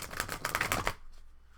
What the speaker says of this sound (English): I riffle shuffle it this way.